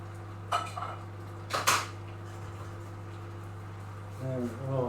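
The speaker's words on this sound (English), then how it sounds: "Let's mix those in." Kidney beans being stirred into a pot of chili, a couple of faint clanks of spoon against cookware over a steady background hum, with a voice talking briefly near the end.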